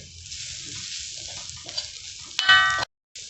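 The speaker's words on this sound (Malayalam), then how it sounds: "ഉള്ളിയിലെല്ലാം പിടിക്കുന്ന രീതിയിൽ നല്ല രീതിയിൽ മസാല നല്ലോണം ഒന്ന് ഇളക്കിയെടുക്കണം" Garam masala stirred into onions in a pan over a low flame for tapioca biryani, a soft steady sizzle with light scraping and a brief louder clatter near the end, no talking.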